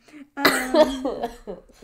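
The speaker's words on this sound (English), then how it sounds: "I have a little bit of a snivel cough" A single hoarse cough breaks out, followed by a few rough throaty sounds and breaths, close and fairly loud.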